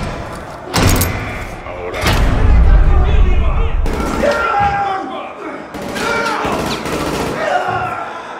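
Gunfire and heavy thuds echo through a Call of Duty 3 campaign battle, several loud bursts and slams spread unevenly among background combat noise and shouted voices.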